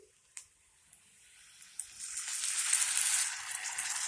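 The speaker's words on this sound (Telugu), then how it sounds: "ఈ రసాన్ని అంతా ఈ ఆనియన్స్లో వేసేయాలి" Tamarind juice poured into frying onions in a pan: a few light taps and clinks, then a swelling hiss of sizzling that builds and holds, moderately faint and close.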